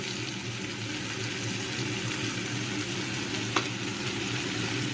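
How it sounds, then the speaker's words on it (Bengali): Ingredients for spicy Maggi noodles frying in a pan, a low, even sizzle heard faintly with one small clink partway through. "যতক্ষণ না গলছে আমি একটু ফ্রাই করবো"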